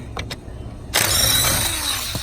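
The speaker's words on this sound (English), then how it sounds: "I'm using a Pittsburgh socket on a snap-on gun." A Snap-on impact gun with a Pittsburgh socket spinning off 10mm bolts: a couple of short faint clicks, then a sudden loud sustained burst of buzzing, hammering whir held close for over a second.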